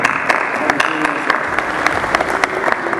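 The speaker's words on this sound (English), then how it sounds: "A big round of applause." Audience applause at an IT industry awards ceremony, dense continuous clapping from a sizable crowd with a few louder claps standing out, and faint voices underneath.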